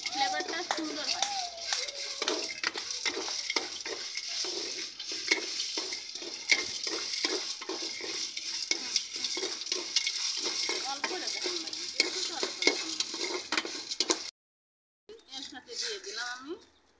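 Cumin and coriander frying in a pan at home, with repeated clinks and scrapes of stirring and a faint sizzle under steady talking, then a brief silence and a few more stirs.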